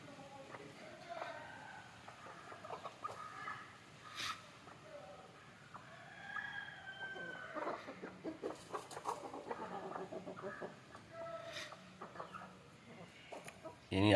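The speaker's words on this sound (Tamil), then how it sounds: "எப்படி இருக்குன்னு பாருங்கள் ப்ரோ கோழியெல்லாம்." Native chickens cluck and chatter in a morning coop as it is opened, soft scattered calls from several birds, fairly faint and intermittent, with a few sharper squawks and light rustling noise.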